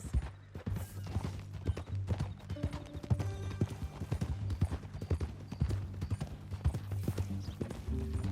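Horse hooves clip-clop steadily in Red Dead Redemption 2, a loud continuous trot over low droning music, with an occasional whinny.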